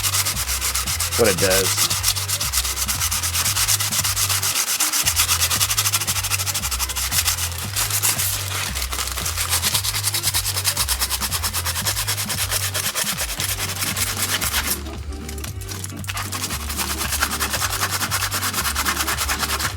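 Aluminum foil dipped in vinegar is rubbed hard over rusty chrome legs of a Nintendo Red Tent, giving a loud, steady, gritty scrubbing that runs continuously with one brief lull near the end; a voice speaks briefly.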